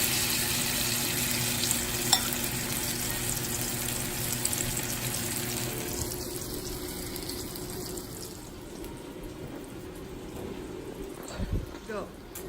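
Tortang talong, an eggplant omelette, fries in hot oil with a dense, continuous crackling sizzle that softens after a while. A few brief utensil knocks sound near the end, and faint voices may be present.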